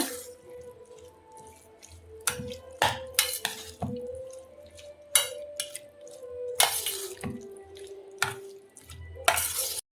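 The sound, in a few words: stirring amla pickle after adding peanut oil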